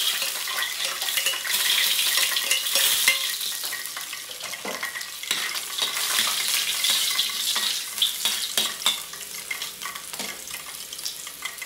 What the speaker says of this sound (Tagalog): Gisa na tayo bawang.